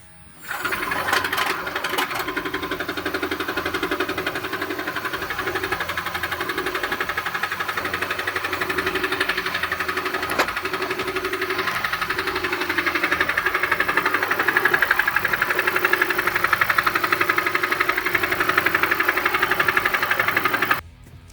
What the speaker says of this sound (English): there's a really bad engine noise in the Prius